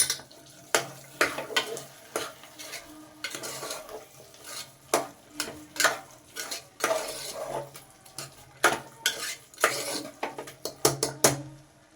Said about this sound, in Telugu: డ్రై ఫ్రూట్స్ వేసుకున్న తర్వాత మంచిగా కలుపుకుందాం.